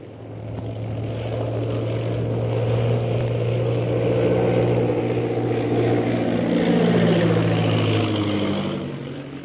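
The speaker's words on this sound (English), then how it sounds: "the rest of the 15 planes of the Purple Triangle Air Squadron turn back from the ordered flight and land at the camp" Squadron of propeller planes landing, a loud continuous engine drone that swells and fades with shifting pitch as multiple aircraft pass near, heard alone without talk.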